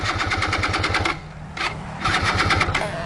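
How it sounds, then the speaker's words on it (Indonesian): A stalled motorcycle that won't start cranks in quick, even mechanical pulses, in two bursts separated by a short pause, fairly close and with no voices. "Gimana mau pulang kalau motor kamu nggak mau hidup kayak gini?"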